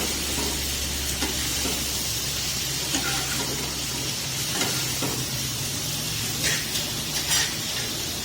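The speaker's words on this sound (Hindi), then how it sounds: "ये काफी अच्छे से फ्राई हो रही है" Masala kaleji, goat liver with spices, yogurt just added, frying on a hot tawa: a steady, loud, bright sizzle with soft bubbling and a few spatters throughout, no voices.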